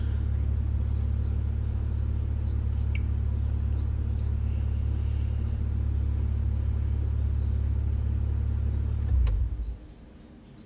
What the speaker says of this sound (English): decided to run the engine as it is so that we will see if there's some issues